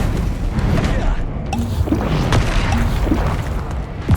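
Confringo explosions in a Hogwarts Legacy side-quest fight: rumbling blasts and crashing impacts pile up continuously and loudly, one after another, with no clear pause.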